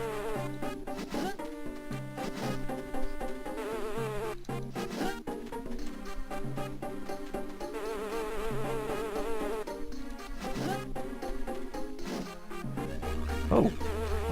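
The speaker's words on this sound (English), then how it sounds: "giant bees are not too far off" Giant bees in The Hobbit video game drone with a steady, dense insect buzz that runs unbroken for the whole stretch, layered with game music and effects and no talking.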